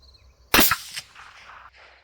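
A single sharp rifle shot from a .22-250 Ackley Improved at a 100-yard range, loud and abrupt, with a brief echoing tail fading over the next second.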